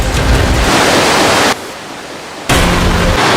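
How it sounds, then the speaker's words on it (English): A river flows through a cave with a loud, steady roar of rushing water that drops to a quieter hush for about a second before surging back. "this river actually runs throughout the entire cave"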